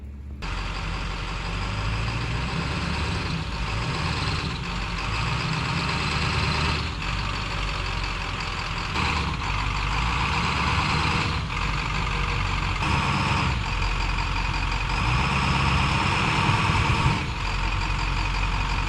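An off-road vehicle at Badlands Off-Road Park crawls slowly over rocks, its engine idling and rising in low surges with intermittent scrapes and clunks, close by and steady throughout.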